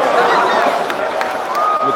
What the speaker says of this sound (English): The crowd does not like it at all.